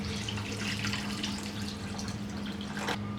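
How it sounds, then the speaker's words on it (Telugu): Water is poured from a glass into a pan of soaked biryani rice for egg biryani. The pour is a steady, continuous splashing stream lasting about three seconds, close by, with no talking. "ఇప్పుడు ఇందులో వాటర్ పోసుకోవాలి."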